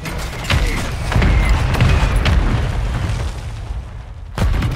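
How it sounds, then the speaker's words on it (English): Mortar strike explosions in the Warzone video game: a series of heavy, muffled booms and rumbling blasts, some near and some more distant, rolling continuously with a final thud near the end. "Friendly mortar strike on the way."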